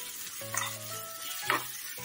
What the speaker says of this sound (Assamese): এয়া এতিয়া পিঁয়াজৰ লগত অকমান সামান্য ভাজি ল'ম